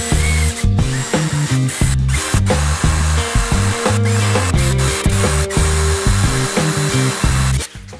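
A power drill whirs in repeated bursts, its motor pitch rising and dropping as it bites into a broken metal belt-tensioner bolt on a Honda Odyssey, stopping and starting several times.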